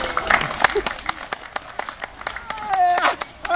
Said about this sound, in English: that's clapping to get the thing up here